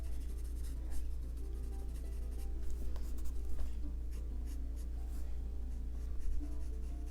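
Coloured pencil being blended with Gamsol solvent on paper while shading an amethyst crystal drawing, a soft continuous rubbing and scratching close up over a steady low hum, with no talking.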